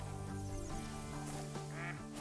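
A duck quacks in the Call of the Wild hunting game, a few nasal, raspy calls amid a faint outdoor ambience.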